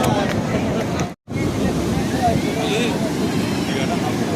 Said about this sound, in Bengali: দেখো বন্ধুরা কত ঢেউ উঠছে।